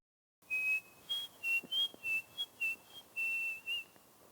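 A woman vocalist whistles a clear, close melody in a spinning room, in short phrases with brief pauses between them, alone with no other sound.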